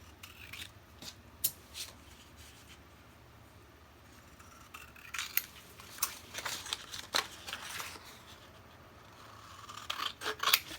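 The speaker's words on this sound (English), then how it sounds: "So all I'm going to do now is just cut this out." Scissors snip through dress shirt cuff fabric in a string of close, crisp cuts, irregularly spaced, with soft rustling of the cloth between blades closing.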